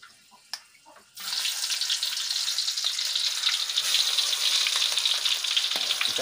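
Onions dropped into hot oil in a home kitchen while cooking chicken: after a few quiet knocks, a loud, steady, crackling sizzle starts and holds, close and alone.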